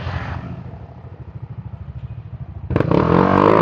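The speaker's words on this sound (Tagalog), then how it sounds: "Ganun daw yung tunog. Mahina pa daw kasi yung pipe ko." A motorcycle with an aftermarket exhaust pipe idles with a rapid, lumpy pulse up close, then is revved hard into a loud, rising roar.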